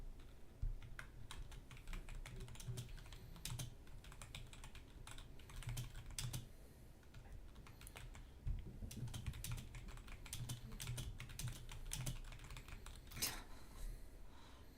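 Fast typing on a computer keyboard during a livestream, a dense run of close, crisp key clicks with irregular rhythm and occasional louder spacebar or enter strikes, no voices over it.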